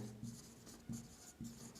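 Marker or chalk strokes on a board during a classroom grammar lesson, three short scraping bursts with brief pauses, faint and close, with no talking.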